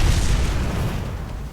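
A grenade explodes in Fable 3, a loud, dense, rumbling boom that fills the whole stretch and slowly tails off, with no talk over it.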